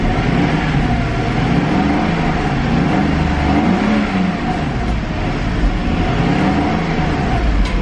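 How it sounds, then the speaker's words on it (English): A 1995 Mercedes-Benz S500 Coupe engine is revved up and held, giving a loud, steady, smooth drone close by that lasts throughout, with no voices. "Revs up nice and smooth."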